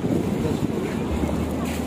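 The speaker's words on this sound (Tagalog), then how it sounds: "malaki pong alon ngayon eh" Large waves rumble and wash continuously at Naputad Beach, with strong wind buffeting the microphone throughout.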